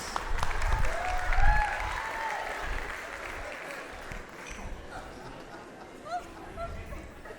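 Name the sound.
audience applause at a Bollywood dance show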